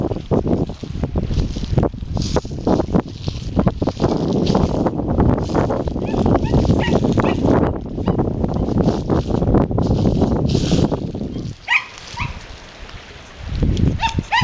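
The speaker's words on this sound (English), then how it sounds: "Oh, lots of wind." Strong wind buffets the microphone outdoors at a lakeside picnic, a loud continuous roar with gusty surges that briefly drop away near the end before returning.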